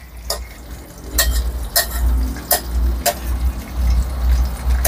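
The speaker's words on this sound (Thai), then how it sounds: "เราก็ให้เอาน้ำมันนะครับราดไปที่ตัวปลานะครับ" Fish fries in hot oil in a pan over low heat as oil is ladled over it, producing a steady close sizzle broken by several sharp bursts and faint utensil clinks.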